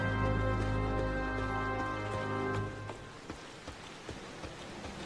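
Steady rain hissing down in Gridania in Final Fantasy XIV, a broad wash under a droning music bed that drops away partway through, leaving scattered close droplet taps over the softer patter.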